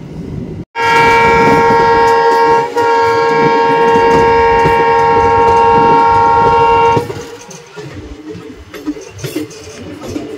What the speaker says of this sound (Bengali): যার কারণে কিন্তু আমাদের এই ট্রেনের পেছনে বানকার অ্যাটাচ করা হয়েছে